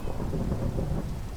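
Thunder from a lightning strike during a rainstorm in Minecraft, a dense, loud rumble with steady rain hiss throughout, no voices.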